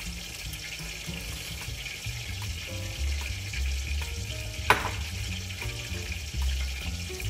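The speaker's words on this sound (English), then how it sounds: "And let's add the water." Water poured into a hot frying pan while cooking sweet and sour fish with vinegar, a sizzling, bubbling hiss with a brief sharp splash midway, steady and close.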